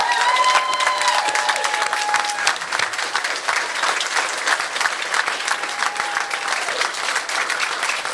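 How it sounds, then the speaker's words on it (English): A crowd applauds steadily at a ribbon-cutting ceremony for the cancer center at Valley Medical Center, with dense, sustained clapping and a few faint cheers and whistles mixed in throughout. "Please help me give them a huge round of applause."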